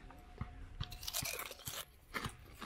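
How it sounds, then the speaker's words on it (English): Crisp bites and chewing of nori-flavored Japanese potato chips, several sharp crunches in quick succession, close and fairly quiet, with no talking. "the most potato, Japanese-iest potato chip I've ever had. This one is with nori."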